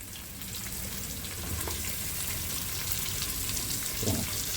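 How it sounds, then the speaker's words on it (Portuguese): Onion sautéing in pork lard, a steady, close sizzle that builds slightly, with one or two soft stirring knocks near the end and no talk. "E agora entro com a cebola. Vamos refogar primeiro a cebola."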